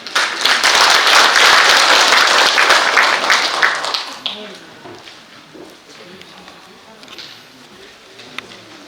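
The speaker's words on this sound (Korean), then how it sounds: "큰 박수로 이사장님을 모시겠습니다." Loud audience applause at a founding assembly honoring an independence activist, greeting the chairman as he is called up; dense clapping for about four seconds, then fading to quieter room noise with scattered sounds.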